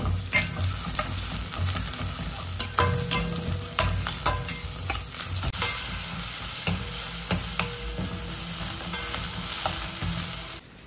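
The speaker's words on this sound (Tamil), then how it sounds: "இப்போ பச்சை மிளகாவும் வதக்க ஆரம்பிச்சிச்சு." Chopped onions and green chillies sauté in a hot pan for Bombay chutney. A steady sizzle fills the whole stretch, broken by repeated scraping and clinking stirs of a spatula against the metal, and no one speaks.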